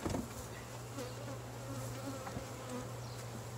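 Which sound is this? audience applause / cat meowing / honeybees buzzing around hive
honeybees buzzing around hive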